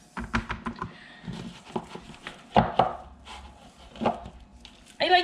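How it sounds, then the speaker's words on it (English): A cutter presses into Welsh cake dough on a chopping board with irregular wooden taps and knocks. A couple of heavier thumps and a brief clatter stand out near the end. "I don't want to cut this on my work surface, so I'm going to get my chopping board."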